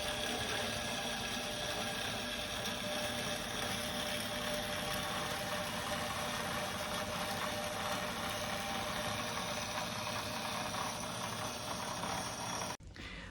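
Bandsaw running steadily through a series of test pie cuts during setup and alignment, a continuous loud mechanical whir with dense motor hum, stopping abruptly near the end.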